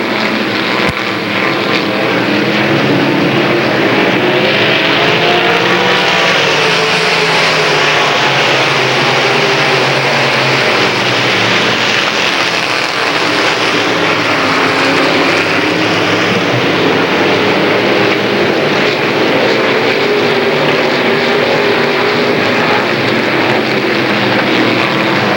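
Limited late model race cars roar continuously around a track in a 1993 heat, a loud, dense engine drone that swells and fades slightly as the pack passes, with no voices heard.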